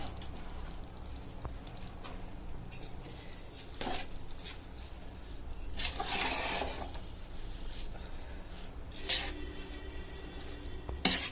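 Beef biryani being stirred in a large pot over a lowered flame: soft, irregular scraping and metal-on-metal clinks come in a few brief bursts over a low, steady background.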